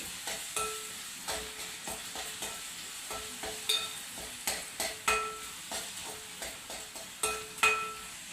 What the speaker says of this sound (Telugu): ఉల్లిపాయ ముక్కలు అయితే వేగిపోయాయండి